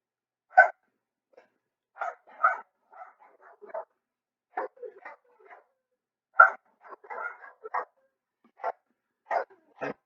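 Several dogs barking at dogs seen on a television indoors, in short sharp bursts and yips spread across the clip with silent gaps between, close and fairly loud.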